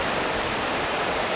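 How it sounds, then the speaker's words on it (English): Steady rain pours down in a dense, even hiss, close and fairly loud, with no voices, during January rains along the Smith River. "More rain, another 2 inches since yesterday."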